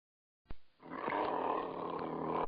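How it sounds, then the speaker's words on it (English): A cougar gives one sustained, loud, rasping roar that swells after a brief sharp onset and holds steady for about two seconds, heard alone with no other sounds. "Cougar."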